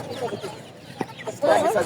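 Chickens and roosters at a Hasnabad poultry market, giving clucks and short calls, with a louder burst of squawking near the end and market chatter mixed in.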